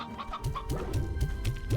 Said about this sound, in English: They still have some roosters here. So I can just grab some regular hens.